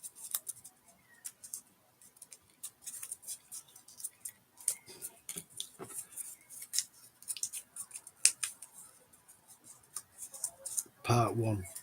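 Scissors snipping paper for handmade paper flowers, a series of sharp close cuts in uneven bursts separated by short pauses, with a brief louder rustle near the end.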